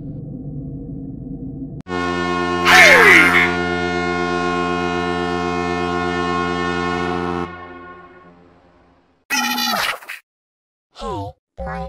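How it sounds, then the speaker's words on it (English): A long, loud, deep foghorn blast with a brief sharp air horn burst near its start, followed by short honks and chirpy effects. "MonitorLoudBlox, why'd you wake us up by using the air horn and the foghorn sound effects?"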